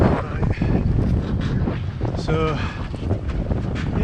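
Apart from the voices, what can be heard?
wind blowing on a sailboat at sea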